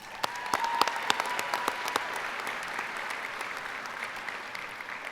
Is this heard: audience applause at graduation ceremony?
yes